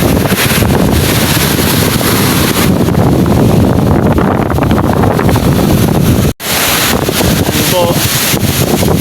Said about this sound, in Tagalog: Hindi pa rin tumitigil ang habagat.